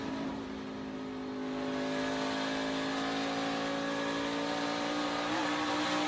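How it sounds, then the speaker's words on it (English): Engine of a NASCAR Xfinity race car at Rockingham during practice, holding a loud, steady roar that swells slightly, with a brief rear tire spin near the end. "You heard the rear tire spin just a little bit right there"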